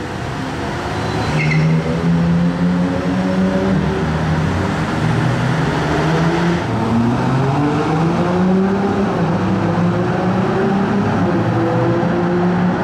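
A Spider RS sports car's engine growls close by in a steady, loud run, its pitch rising and falling with revs amid surrounding traffic noise.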